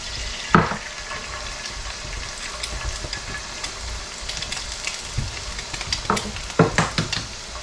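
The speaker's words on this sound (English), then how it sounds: "I am going to add a little oil before I put my eggs down in there." Eggs fry in oil in a pan, giving a steady, fairly loud sizzle with occasional sharper pops and utensil clinks, and no one speaking.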